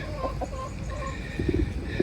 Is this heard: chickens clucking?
yes